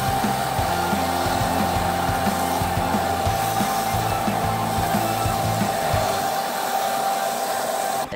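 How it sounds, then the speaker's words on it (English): A grinder or sander is run in a home welding shop building a firewood rack. It makes a loud, continuous close-up whine with a rough, shifting drone underneath that holds steady and then stops abruptly at the very end. "I'll just get out my grinder, my sander."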